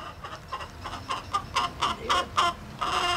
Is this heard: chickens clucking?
yes